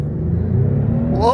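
A 2024 Lexus GX550 engine revs in sport mode inside the cabin, a steady low rumble rising in pitch toward the end, with people talking over it.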